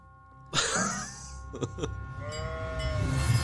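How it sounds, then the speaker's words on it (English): A recorded goat bleats in a short, wavering, nasal cry after a brief pause, followed by softer trailing bleats and some faint rumbling background, fairly quiet overall. "It kind of sounds like a sheep, but I think goats sound like sheep. It's a goat."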